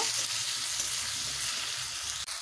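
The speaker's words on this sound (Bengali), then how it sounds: "টমেটোগুলোকে ভালোভাবে ভেজে নিয়েছি।" Chopped tomatoes fry in a pan with potatoes and carrots, giving a dense, steady sizzle that stays close and even throughout.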